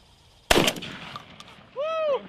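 A single sharp, loud gunshot from an anti-drone weapon cracks out close by and rings off briefly, followed by a short vocal exclamation.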